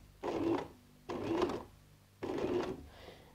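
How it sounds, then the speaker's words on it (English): A sewing machine runs in three short bursts of a few stitches each, the last one back stitching at a seam marking, with brief pauses between runs; close and fairly quiet, with no talk. "sew a couple of stitches and then back stitch"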